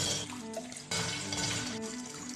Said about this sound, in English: He puts his face on cold water.